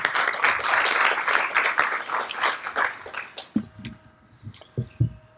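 An audience at a Tiger Bay education referendum debate applauds with dense, close clapping for about three and a half seconds, then it thins to a few scattered claps and faint room noise.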